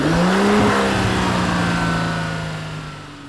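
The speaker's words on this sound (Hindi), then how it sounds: "अल्ट्रोज रेसर ना सिर्फ स्पोर्टी लगती है बल्कि स्पोर्टी साउंड भी करती है।" A Tata Altroz Racer hatchback gives a single loud, close exhaust rev with a sporty note. The pitch rises briefly, then slides down and fades as the engine settles.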